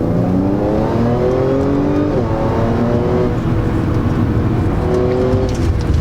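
A Stage 2 APR-tuned 2011 Audi B8 S4 with an S-tronic gearbox accelerates hard, its engine climbing loud and close, with a quick gear shift dropping the revs before they climb again.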